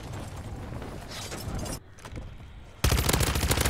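SMG fire in MW3 Zombies crackles in rapid automatic bursts, dense and loud, with a brief lull before a heavier sustained volley at the end.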